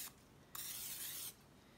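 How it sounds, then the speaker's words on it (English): Cooking spray misted into a crock pot, two short hissing bursts, the second longer, close and fairly quiet with no talking. "you're gonna spray your crock pot"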